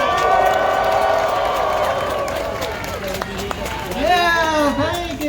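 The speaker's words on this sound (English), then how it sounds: "everyone give them a super warm round of applause" A rally crowd in New York claps and cheers loudly, with whoops and excited voices rising over the applause, close and lively throughout.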